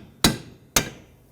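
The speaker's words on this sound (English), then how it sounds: "Give it a couple taps with the hammer." A hammer gives two sharp, loud taps about half a second apart, driving a rear strut bolt into place on a 2001-2007 Toyota Highlander, close up with no talk.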